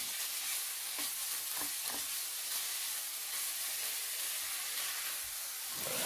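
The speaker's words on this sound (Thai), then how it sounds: "ตามด้วยผักกาดดองอีก100กรัมครับใส่ลงไปเลยครับผัดรวมกันไปเลยครับ" Pork belly and pickled mustard greens stir-frying together in a hot pan, a steady sizzle and hiss with a few soft scraping stirs, fairly quiet and without voices.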